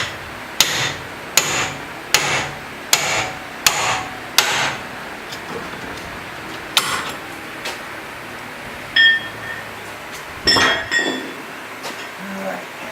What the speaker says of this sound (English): take a hammer and drive it in